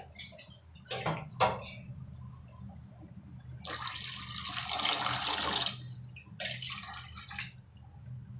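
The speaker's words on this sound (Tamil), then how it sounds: "உங்களுக்கு தேவையான அளவு தண்ணி ஊற்றிக்கலாம்." Water splashes and pours in short bursts, then a longer steady stream into a pot for tomato rasam, close by with a few brief drips between.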